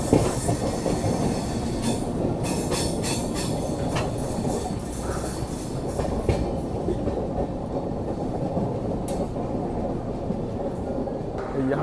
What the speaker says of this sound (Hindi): यहाँ पे दोस्तों हमारी ट्रेन जो है वो डायमंड क्रॉसिंग को पार कर रही है